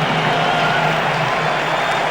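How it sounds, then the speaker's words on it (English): Stadium crowd cheering for quarterback Charlie Batch at the Thanksgiving Day 2000 Patriots vs. Lions game, a steady broad roar of distant applause and cheers throughout. "Listen to the cheers for Charlie Batch as he gets to his feet and heads to the sideline."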